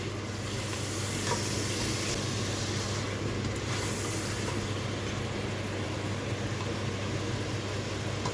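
Mutton pieces fry in a pot for a Hindi-Urdu daal gosht curry, giving a steady, close, continuous sizzle with a low hum underneath and no talk.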